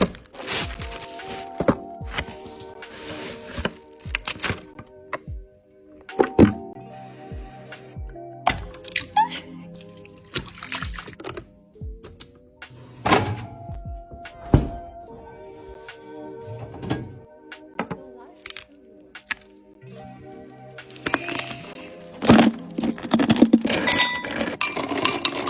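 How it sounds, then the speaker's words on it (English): A knife cuts through a bar of soap and snaps it apart, giving repeated crisp thunks, clicks and crumbly breaks in close, clean bursts with brief pauses between strokes. "showing the knife and then breaking the soap is really attention grabbing"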